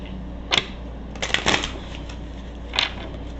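Hidden Truth cards being shuffled and pulled in a few short, crisp riffling bursts, close and fairly quiet, with a soft pause between them and no one talking.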